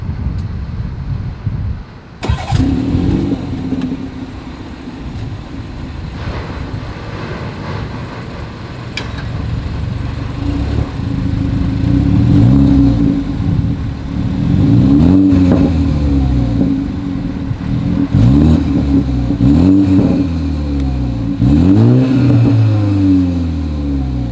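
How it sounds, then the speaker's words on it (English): A 2021 BMW 330i engine idles, then revs repeatedly through a throaty exhaust, several sharp rising and falling bursts, loud and close. "As always, here is that exhaust clip."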